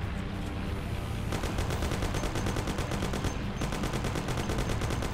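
Sustained automatic gunfire in Mafia, a fast regular rattle of shots, loud and continuous, pausing briefly and then resuming, with no talking.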